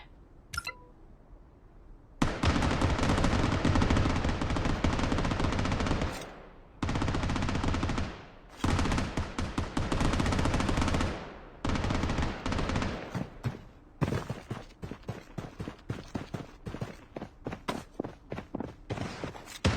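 Automatic gunfire in the battle royale shooter Blood Strike, loud sustained bursts of rapid shots broken by short pauses, then a run of separate sharp single shots near the end.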